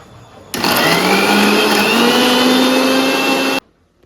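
An electric grinder whirs through onion, garlic and salt, a loud, steady high-pitched motor drone starting abruptly and running about three seconds before cutting off sharply.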